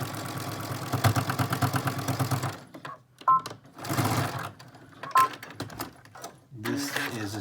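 A sewing machine back stitches a fabric face mask, its fast rhythmic mechanical whir running loud at first, then stopping and restarting in shorter bursts with brief pauses, while a person talks in between.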